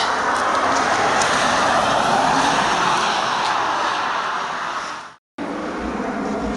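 Car arriving outdoors, a steady loud rumble of engine and road noise that fades toward the end, then cuts out abruptly before quieter ambience resumes.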